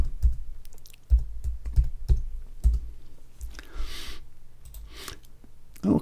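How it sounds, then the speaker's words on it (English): A keyword is typed on a computer keyboard while working in Adobe Bridge 2020: a short run of crisp, close key clicks at an uneven pace, followed by a couple of softer clicks and faint rustles in a quiet room. "And on this one, we'll type mountains."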